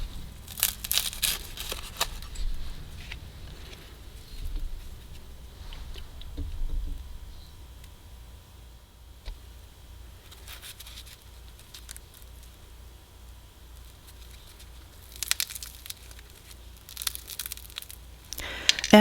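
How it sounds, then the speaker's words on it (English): Knife cutting a fried Menlo-wrapper egg roll in half: faint crisp crackles and crunches in scattered bursts, close but quiet over a low background hum, with no talking. "Let's go ahead and cut this in half."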